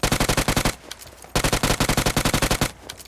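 Rapid automatic gunfire in BGMI (PUBG), two loud sustained bursts of evenly spaced shots separated by a short pause, with a few scattered distant shots trailing after.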